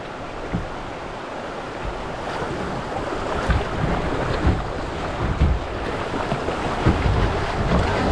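Rough water splashes and surges around a kayak in rough water in the Ozarks, with waves slapping irregularly and wind buffeting the microphone; no voices.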